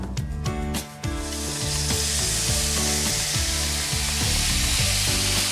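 Onion paste fries in hot oil for a pabda fish curry, a loud continuous sizzle with rhythmic stirring scrapes, over a faint repeating musical background.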